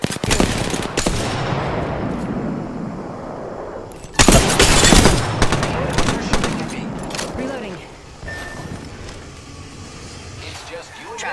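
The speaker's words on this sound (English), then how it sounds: "I am taking fire, friends." Bursts of automatic gunfire and impacts in the Apex Legends video game, loud and dense at the start, easing off later, with a player talking over the action.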